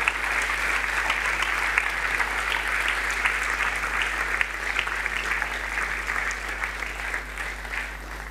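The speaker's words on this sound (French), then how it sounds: "On l'applaudit bien fort." Sustained audience applause at a business integration awards ceremony, dense and even throughout as a winner is called up to the stage, with a steady low hum beneath the clapping.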